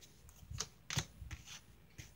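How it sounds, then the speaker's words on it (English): Tarot cards are shuffled in a series of soft, quick riffling bursts and taps, close and quiet, with no voices. "I feel like I need to stop shuffling"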